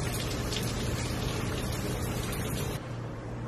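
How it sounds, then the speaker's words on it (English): Rain falling outside in Miami, a steady dense hiss heard from indoors that drops away sharply near the end. "So it's raining."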